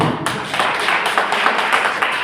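Church congregation clapping for the Lord during a worship service, a dense, steady wash of many hands with a few louder accents, continuous through the whole stretch with no voices.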